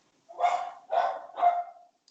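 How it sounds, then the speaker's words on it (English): A pet dog named Bernie barks three times in quick succession indoors at home, each bark loud and close, with no talking over it. "Excuse the dog."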